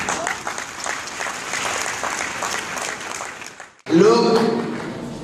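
Audience applause bursts in loudly near the end after a stretch of noisy hall ambience, with clapping dense and sustained at close range.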